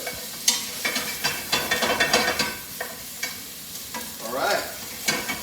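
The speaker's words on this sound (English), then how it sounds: "we want to definitely just saute that around a little bit with the salt and pepper" Tomatoes sautéed with salt and pepper in a pan, sizzling close up beneath repeated scraping and stirring strokes of a utensil, with a brief louder hiss near the end and no talking.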